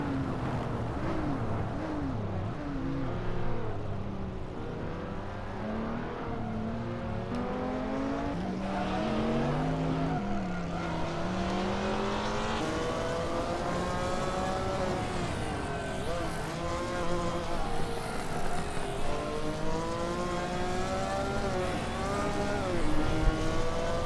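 Hot Wheels race cars, a Ferrari among them, racing in a video game, a loud continuous engine whine that climbs and falls in pitch with gear changes and turns for over twenty seconds.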